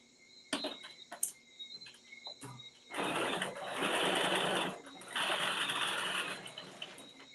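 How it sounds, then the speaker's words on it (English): A domestic sewing machine running a narrow zigzag stitch, with a few clicks and handling taps first, then two sustained bursts of fast, buzzing stitching close up. "Back to my machine, back to a narrow zigzag stitch."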